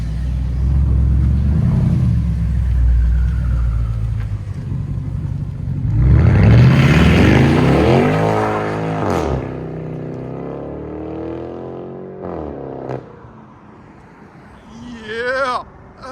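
A BMW 550 with a true dual, fully straight-piped exhaust and quad tips revs hard. A loud low rumble swells into a rising rev before falling back to idle, with a brief blip near the end.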